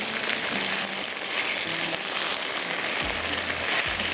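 Cumin, bay leaf, star anise and fried potatoes sizzle with onion in hot oil, a steady close hiss of frying broken by a few soft low clinks from stirring.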